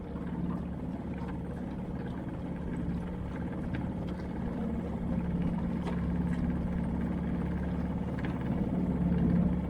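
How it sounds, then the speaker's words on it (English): A small dinghy outboard motor drones steadily and fairly loudly while cruising through a mooring field off Catalina Island, a constant low engine hum with water wash and no talking. "Just out for a little cruise in the dinghy, looking at the boats in the mooring field."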